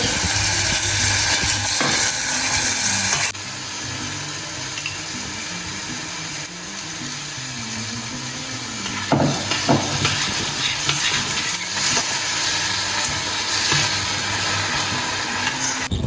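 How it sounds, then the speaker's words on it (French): Water poured into a pan of onion confit for Tunisian couscous, a loud hissing sizzle that settles into a steady bubbling simmer with a few clinks, no speech. "Donc mon petit confit d'oignon, j'ai rajouté l'équivalent d'à peine 60 g d'eau."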